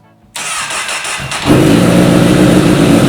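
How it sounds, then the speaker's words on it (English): A 2008-2016 Honda CBR1000RR Fireblade motorcycle engine cranks and catches, then settles into a loud, rumbling idle that runs steadily, with a brief spoken word near the start. "Now we get to start the bike and hear all sorts of lovely grinding noises."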